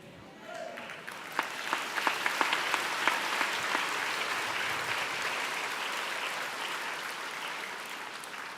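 A church congregation at a Sunday sermon breaks into applause, with steady, dense clapping from many hands that continues for several seconds at moderate distance, with faint voices mixed in.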